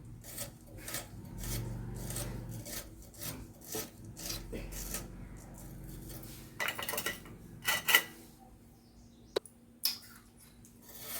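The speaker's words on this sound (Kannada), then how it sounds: "ಇದನ್ನು ತುಂಬ ಸಣ್ಣದಾಗಿ ಹೆಚ್ಕೋತಾ ಇದ್ದೀನಿ" A knife finely chopping small, sour bilimbi fruits on a board, with rapid repeated knife taps in bursts near the mic, then a few sharper isolated cuts and clatters.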